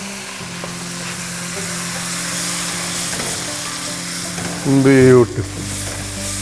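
Marinated mutton chops with ginger-garlic paste, salt, deggi mirch and coriander powder sizzle steadily in a pan. A brief louder scrape of stirring comes near the end, and a voice speaks a single word.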